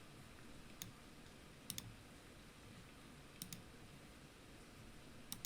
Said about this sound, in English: Don't worry about my typing.